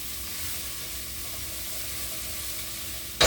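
Chopped onion and garlic sizzle in melted butter in a pan, a steady, moderately loud hiss with no voices, ending in a brief sharp clatter.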